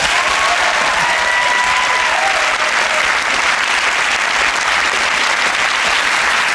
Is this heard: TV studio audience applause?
yes